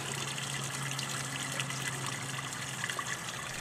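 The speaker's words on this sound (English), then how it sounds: "we'll just go ahead and open up the valve and let it go right down the drain" Water drains out of a cylinder aquarium tank through an opened valve, a steady, continuous rushing gush with a faint low hum beneath, no talking.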